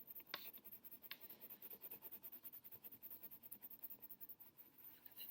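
Colored pencil shading on paper, a faint rapid scratching in steady back-and-forth strokes, very close and quiet, with a couple of sharper taps near the start.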